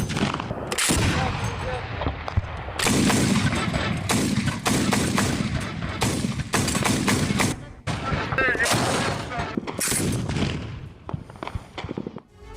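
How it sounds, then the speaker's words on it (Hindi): Heavy gunfire in a battle in Syria, repeated loud bursts of automatic weapons and single shots echoing in sharp clusters, with brief gaps between volleys and the clip ending quieter. "आमने सामने की जंग में ताबड़तोड़ फायरिंग हो रही है।"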